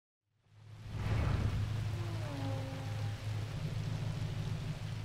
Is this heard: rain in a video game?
yes